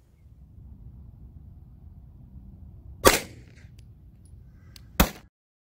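A 9mm 115 gr CorBon DPX round is fired into clear ballistic gelatin through a soft barrier: two sharp, loud shots about two seconds apart over a faint low hum, with no speech.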